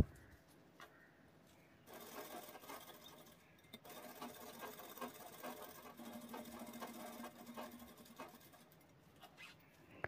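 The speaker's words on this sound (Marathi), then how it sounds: "त्याला तिन्ही बाजूनी शिलाई करून घ्यायची आहे." A sewing machine stitches the double-layer pocket of a ladies' sling bag along three sides, running in steady fast bursts of close, quiet rattling with short pauses between runs and no talk.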